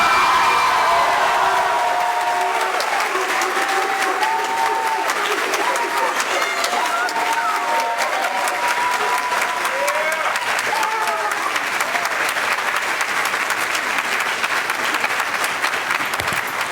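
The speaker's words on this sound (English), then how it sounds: "Everybody give them a round of applause." High school audience at a Black History Month celebration breaking into sustained applause with cheers and whoops, voices calling out over the dense clapping, which carries on steadily throughout.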